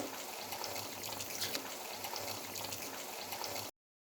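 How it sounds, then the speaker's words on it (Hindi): Water from a glass poured into a pan of frying mutton stew makes a steady broadband gush and sizzle for about three and a half seconds, fairly loud and close, with no voices. "अब हम 1 गिलास पानी ऐड करेंगे"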